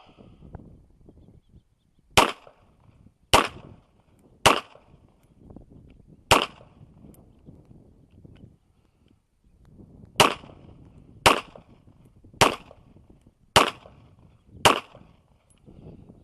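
Nine sharp pistol shots from a Polymer80 G34 fired weak-handed, spaced about a second apart in two groups with a long pause between, loud against a quiet outdoor background.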